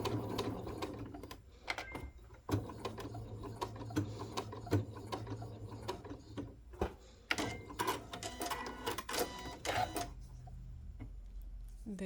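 A sewing machine with a walking foot stitches around Minky fabric pieces for a flat teddy bear, running in a steady mechanical whir with brief stops and clicks, close by, with a voice speaking softly under it.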